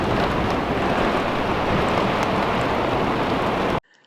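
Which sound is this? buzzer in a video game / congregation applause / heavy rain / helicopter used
heavy rain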